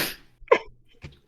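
A single sharp, high-pitched sneeze, close and fairly loud, trailed by a small breathy follow-up sound.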